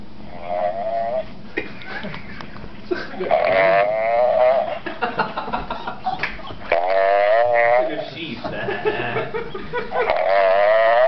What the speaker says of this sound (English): This is what you sound like when you fucking snore like logs.